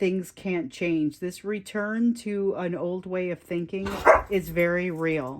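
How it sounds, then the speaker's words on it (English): Dogs barking in the background, a sharp bark or two briefly breaking through beneath continuous close speech from a single talker. "So sorry about the dogs in the background there."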